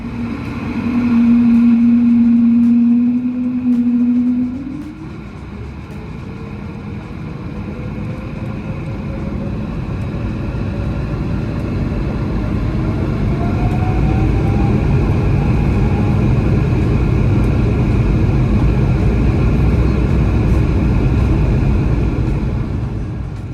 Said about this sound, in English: The spool up and takeoff are up next.